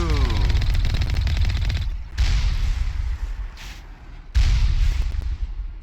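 Turrets in a video game fire rapid bursts of automatic gunfire, a loud rattling stream interrupted by two short pauses before the shooting resumes.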